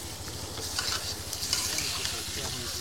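Large hilsa fish pieces being sautéed in a pan, a dense, steady sizzle with busy stirring clatter and crackle throughout, close and fairly quiet, with no talking.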